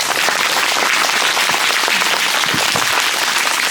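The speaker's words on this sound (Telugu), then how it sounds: "ఒకసారి నాకు చప్పట్లు కొట్టండి ప్లీజ్" Steady applause from a room of students at a meditation class, dense overlapping claps sustained at even loudness throughout with no talk over it.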